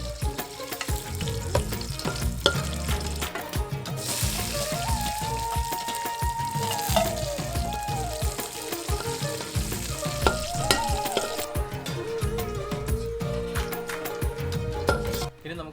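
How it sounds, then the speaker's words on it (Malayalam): Cashews and raisins frying in hot oil for chicken biryani, a loud continuous close sizzle and bubbling with stirring scrapes, music-like tones underneath and no clear talk. "അടുത്തതായിട്ട് നമുക്ക് ഈ അണ്ടിപ്പരിപ്പും നമുക്ക് വറുത്ത് കോരണം."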